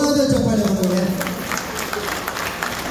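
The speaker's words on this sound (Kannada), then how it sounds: "ದಯವಿಟ್ಟು ಜೋರಾದ ಚಪ್ಪಾಳೆ" An audience at a Varamahalakshmi puja gathering in Dubai applauds in a loud, dense burst that slowly thins out, with a voice speaking over the start of it.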